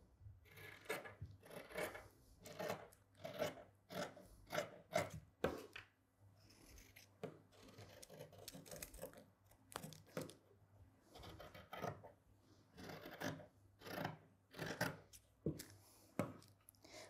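Scissors snip through blouse fabric in a quiet room, with a steady run of short, crisp cuts and brief pauses in between.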